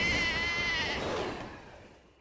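A cartoon sheep gives a single drawn-out, wavering bleat, loud and close, fading away toward the end with no talk over it.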